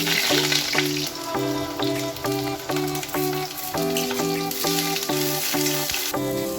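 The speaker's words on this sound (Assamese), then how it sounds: "মোৰ এয়া তেল গৰম হৈছে মই বেঙেনাখিনি" Loud, constant sizzling of brinjal frying in hot oil, with rhythmic background music playing throughout.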